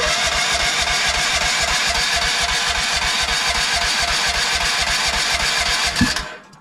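Gas engine of a mini excavator runs with the choke on, a steady rhythmic chugging at a fast idle that holds loud and even before cutting off near the end.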